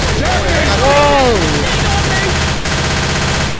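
Rapid gunfire in the zombie shooter Left 4 Dead 2, a dense steady rattle of shots running throughout at close range, loud, while voices talk over it.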